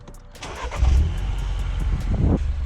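A Mini John Cooper Works engine cranks and catches, then settles into a steady low idle rumble with a brief rise near the end, close by.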